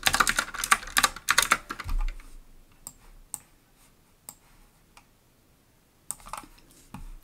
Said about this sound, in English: I'm just gonna type Barbie along the side of it